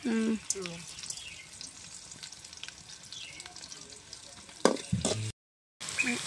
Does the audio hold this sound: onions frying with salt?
yes